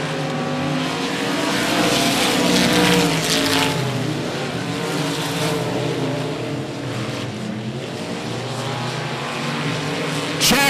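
Limited modified race cars running a heat at 105 Speedway, a loud continuous roar of several engines howling together near the track, steady and sustained with shifting pitch as cars pass.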